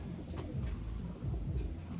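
Large Taiwanese pigeons cooing in a loft, low soft coos repeating steadily alongside rustling and ambient noise, no voices.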